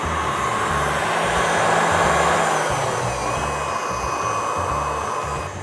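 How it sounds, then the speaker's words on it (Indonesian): An electric cake mixer runs at low speed through orange chiffon cupcake batter, giving a continuous close motor whir with a slightly wavering pitch and no voices. "Selanjutnya mixer kita turunkan speednya ke low ya."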